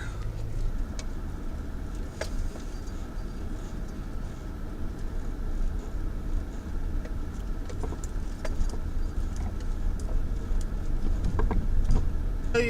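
A car driving slowly over a park parking area while its four-wheel drive is tested, a steady low rumble with light rattles and clicks from inside the cabin and faint talk.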